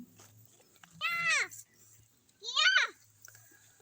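Two loud, wavering bleats from young goats ring out close by, a second apart, over a quiet background with faint low noise.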